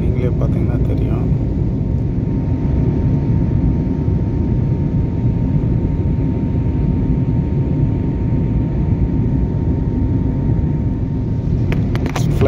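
Air India airplane cabin on approach to Mumbai, a steady loud engine drone and cabin rumble with a faint constant tone, under someone talking.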